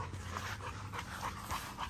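Young puppies playing nearby pant in quick, faint bursts with light scuffling and small whimpers, a soft continuous patter without talk.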